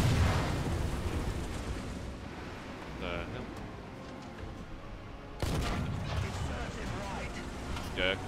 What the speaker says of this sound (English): I felt like there was someone shooting right behind him.